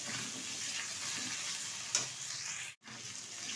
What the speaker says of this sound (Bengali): একটু বেশ কিছুক্ষণ তেলের সাথে নেড়ে ফেড়ে নেবো সবজিটা